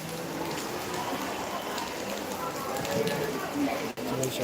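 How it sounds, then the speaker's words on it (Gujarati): Steady rain patters on surfaces across the whole stretch at Bagdana Dham temple in Gujarat, with faint background voices and traffic mixed in. "હજી પણ વરસાદ ચાલુ જ છે"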